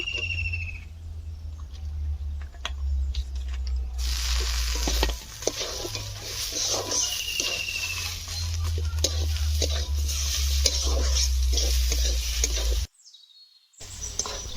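Dal and a fish head cooking in a pan with ginger, salt and turmeric, sizzling and frying steadily with repeated stirring scrapes, loud and close, with a brief cut near the end.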